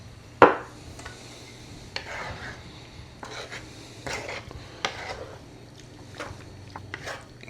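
Creamy Cajun tortellini with parmesan being stirred in a pan over medium heat, a sharp initial clank followed by soft, intermittent scraping and spoon taps against the pan, close and fairly quiet over a low hum.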